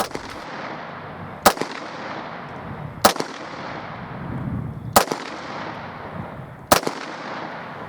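Beretta 92FS pistol shots, four sharp, loud single reports spaced evenly about a second and a half apart, each with a short ringing tail over faint background noise.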